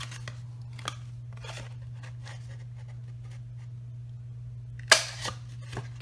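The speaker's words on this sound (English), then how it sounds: "I've got a 3/4 inch circle punch, and I'm just going to slip that in the center here and just notch that" A 3/4 inch circle punch bites through a paper box lid once, a sharp crunching snap standing out against quiet room hum after several soft handling rustles.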